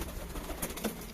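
Pigeons, including Malua-type birds, give a faint, low cooing that stays soft and muffled beneath steady background noise for about a second.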